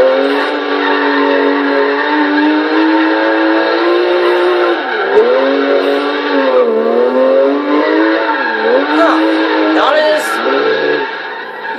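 In Forza Horizon 3, a 2004 Porsche 911 GT3 drifts with its engine droning loud and steady, wavering pitch as it slides, and brief tire squeal near the end.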